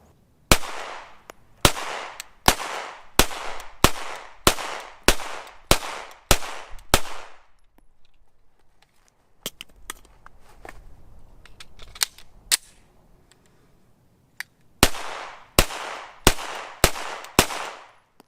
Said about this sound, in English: We're going to shoot both of these